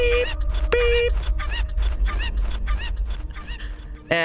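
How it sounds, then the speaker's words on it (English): A flock of chickens attacking in Shantae and the Seven Sirens, loud rapid squawking and honking clucks packed in a frantic run, close and continuous over a low game rumble. "Thank you for the chicken attack"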